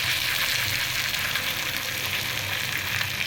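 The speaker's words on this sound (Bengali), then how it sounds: "আর এই চুলার মধ্যে আমি 4 পিস রুই মাছ করতেছি, ভাজতেছি" Four pieces of rohu fish fry in a pan on a stove for kebab, giving off a continuous, even sizzle of hot oil that stays steady and fairly close, with no talking.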